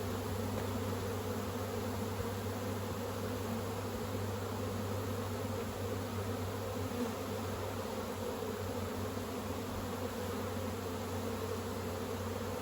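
Honey bees hum steadily around an opened beehive during autumn hive work, a dense continuous buzz that stays close and even throughout, with no voices.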